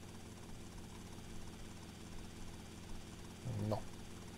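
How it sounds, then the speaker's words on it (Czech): Helicopter in the video game GTA Vice City, a steady rotor and engine drone running throughout at moderate level, with a brief louder surge near the end. "A když je tady ten vrtulník"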